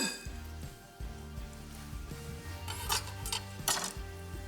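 A spoon stirs pesto pasta salad with zucchini and corn in a bowl, making repeated close clinks and scrapes against the dish in an uneven rhythm, with a few sharper knocks near the end.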